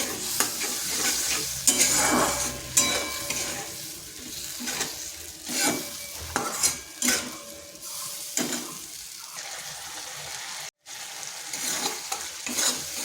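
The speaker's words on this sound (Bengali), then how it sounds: "মশলাটা বেশ কিছুক্ষণ এইভাবে কষে নিতে হবে।" Spice paste, thinned with water from rinsing the ground-nut bowl, is stirred and fried in a kadai for a vegetarian potato and pointed-gourd curry: steady scraping and stirring over a continuous close sizzle, with no talk.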